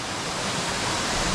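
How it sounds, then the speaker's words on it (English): Water rushing steadily where a stream joins a river in the Shannagh River area of the Mourne Mountains, a close, continuous broadband roar with no pauses and no voices. "There's a stream coming in here, with the river coming down here"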